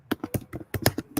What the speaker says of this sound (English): I'm typing record defensive ends drafted first round